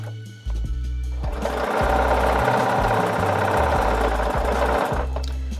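A sewing machine runs steadily, stitching T-shirt quilt seams with a close, humming, rapid needle chatter that starts abruptly and shifts speed slightly before easing off near the end.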